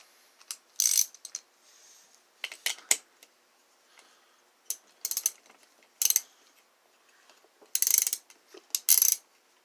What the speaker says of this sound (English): Where is the ratchet?